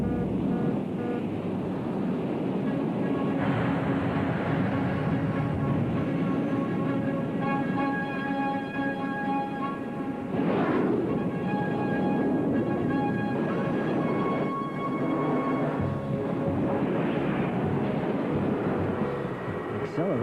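A cartoon spacecraft launching, its engine roar a loud, steady broadband rumble with a surge near the middle that sustains throughout the stretch, no talk over it.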